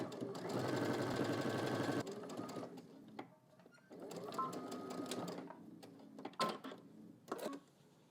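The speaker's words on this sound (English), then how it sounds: "let's head to the machine. We're going to stitch starting here all the way here using 5/8 seam allowance" A sewing machine stitches a pocket bag seam with a 5/8 seam allowance, two bursts of rapid whirring, a longer run and then a shorter one, followed by a few light clicks and handling sounds.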